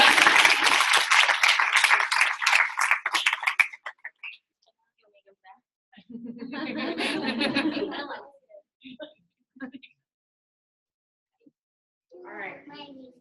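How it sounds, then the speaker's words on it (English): Clapping and cheering break out for team members at an ItWorks team training meeting, a dense burst for a few seconds that fades into scattered voices, brief laughter and a second short patch of clapping near the end. "everybody gets to a huge round of applause"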